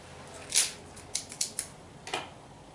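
A Gurkha Seduction cigar is clipped with a cutter before toasting, giving a few sharp, quiet snips and clicks close by in an otherwise quiet room with no talking.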